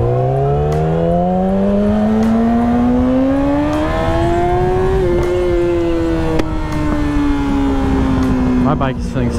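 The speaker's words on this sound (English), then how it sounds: "My bike is feeling so slow right now" A motorcycle engine drones steadily while riding, its pitch climbing slowly as the bike accelerates and then holding level through a gear change, loud and continuous with wind rush and someone talking over it.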